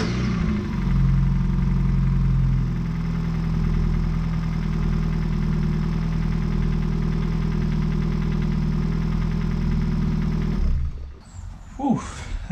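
Car engine with a freshly rebuilt cylinder head runs at a steady idle, a loud, even low rumble with a rhythmic knocking undertone, then cuts off abruptly near the end, leaving a few brief clicks and rustles.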